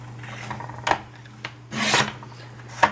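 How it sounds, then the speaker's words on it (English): Paper cut to height for an A6 passport-size booklet makes a few short, sharp rasping bursts over a low steady hum, the loudest one in the middle. "First I want to cut it to the correct height"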